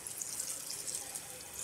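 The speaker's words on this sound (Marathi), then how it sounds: "आपण पाणी टाकून घेऊया." Tap water running steadily into a cooking pot in a home kitchen, a continuous soft hiss and splash heard alone, fairly quiet and close.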